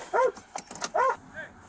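Two or three sharp dog barks close by, one after another, with a fainter yip trailing at the end.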